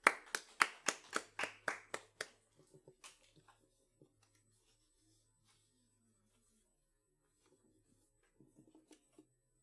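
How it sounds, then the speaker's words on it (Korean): A small youth congregation at a Sunday worship service claps, about a dozen sharp, close hand claps in a quick run, then a few scattered, fainter claps trailing off into near quiet, with a last brief burst near the end. "우리 하나님께 박수로 영광 돌리겠습니다."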